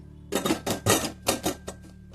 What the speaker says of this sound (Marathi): आपलं कुकरचं झाकण लावून घेऊया।